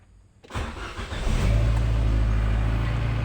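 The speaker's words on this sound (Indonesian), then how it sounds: "Untuk mesin mobil Livina mengalami bergetar dan bergetar" A Nissan Livina engine with a vibration fault turns over and settles into a loud, steady idle with a deep rumbling vibration, close by and without talk.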